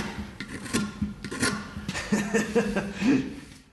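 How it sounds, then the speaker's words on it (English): A reverse bent carving knife shaves a block of wood into a dorsal fin shape, giving repeated close rasping scrapes in uneven strokes with brief pauses between them. "He's slowly shaving a block of wood into the shape of a dorsal fin with an oddly shaped knife."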